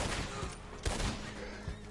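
Gunfire in Red Dead Redemption 2 online: a couple of sharp shots crack over a background of game ambience, one near the middle and a softer one near the end.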